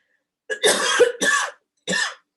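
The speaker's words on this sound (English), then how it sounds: "Sorry, I need to cough again." A close, loud fit of coughing: two quick harsh coughs back to back, a short pause, then one more.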